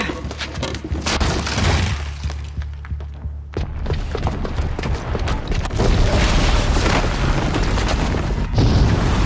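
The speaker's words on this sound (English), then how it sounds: "Because the booby trap on the bomb downstairs is gonna get set off." A booby-trapped bomb explodes in the video game Horizon Zero Dawn, a heavy, loud boom that rolls into a long, continuous rumble of crashing debris and blast noise, with a second surge of destruction partway through.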